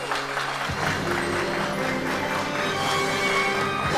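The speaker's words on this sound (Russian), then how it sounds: "Ваши аплодисменты." Guests applaud a newly married couple at their wedding registration ceremony, a steady wash of clapping lasting several seconds over faint background music, rising a little at the end.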